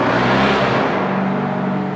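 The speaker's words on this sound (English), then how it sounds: "listen to a big loud obnoxious truck go by" A big, loud truck drives past a house outdoors, giving a heavy, rumbling roar that fills the whole stretch and eases slightly toward the end, with no talking.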